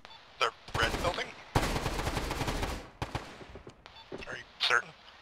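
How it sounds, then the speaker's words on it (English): Gunfire in the military video game Arma crackles in sharp bursts, including a dense sustained volley, with team radio voices talking between shots. "I just took fire from it."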